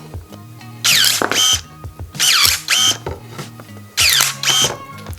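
A Worcraft CSC-S20LiB cordless pruner cutting through pine wood: three loud motorized whirring bursts, each with a rising whine and crunching cut, separated by quieter pauses with faint clicks.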